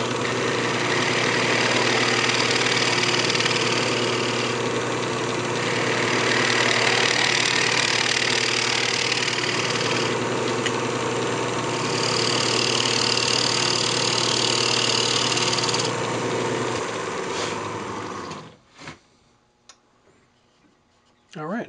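Wood lathe spinning a natural edge bowl, a steady loud motor whir with scraping tool changes, winding down and stopping near the end.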